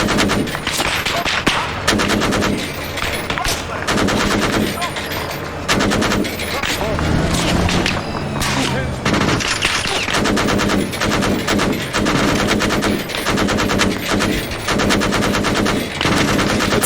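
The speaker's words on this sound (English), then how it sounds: "Switch to machine gun and lay into them." Sustained, loud automatic machine gun fire in the military video game Arma 3, long rattling bursts hammering almost continuously at close range with brief gaps between strings of shots.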